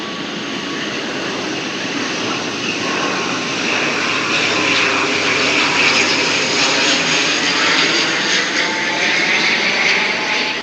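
Airplane passing low over a neighborhood near Taipei's airport, a loud steady engine roar that swells gently and stays continuous for about ten seconds, with no talking.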